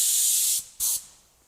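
Adhesion promoter sprayed from an aerosol can onto the side of a 2500 HD pickup truck, two close hissing bursts, the first longer, the second short, then quiet.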